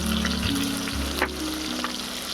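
Onion, ginger and garlic paste frying in a pan makes a constant close sizzle with bubbling crackle, a steady low hum underneath and a couple of brief clinks of stirring.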